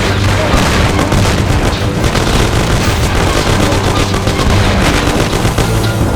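Dense, continuous gunfire during a shootout in Mafia: The City of Lost Heaven, a loud, unbroken roar of overlapping shots and booms that never lets up.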